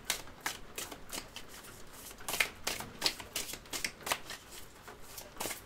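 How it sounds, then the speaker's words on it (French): A deck of tarot cards is shuffled by hand in a quick series of crisp riffling bursts, close and clear, with no talking. "Je vais mélanger et alors on va prendre les 9 cartes"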